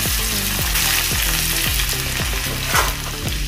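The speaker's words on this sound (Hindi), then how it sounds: "डालेंगे लहसुन है, मैंने थोड़ा कूट लिया है, वो डालेंगे।" Crushed garlic frying in hot oil with cumin and mustard seeds, a loud continuous sizzle with rhythmic stirring scrapes and faint popping, close up and without voices.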